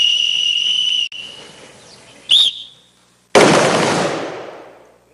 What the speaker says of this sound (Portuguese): a cada apito, um disparo no alvo à frente